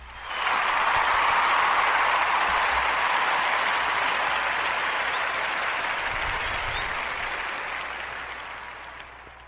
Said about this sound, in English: Merry Christmas and clapping hands.